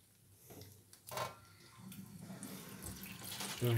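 Tap water runs and splashes into a sink close by as a kitchen range hood filter is rinsed, with a gush near the start and a louder rush at the end.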